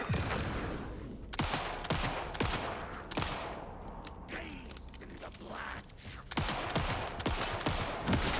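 Rapid bursts of gunfire ring out in a first-person shooter game, loud clustered shots and short automatic volleys with brief gaps, close to the listener.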